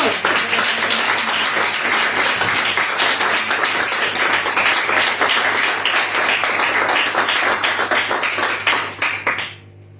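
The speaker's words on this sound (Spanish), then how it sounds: "Dale un fuerte aplauso al Señor" A church congregation gives strong, sustained applause, crisp dense clapping close and loud for nearly ten seconds before it quickly dies away at the end.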